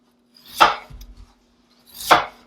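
Two crisp knife chops through potatoes on a cutting board, spaced about a second and a half apart, with a soft board knock between them, close and alone.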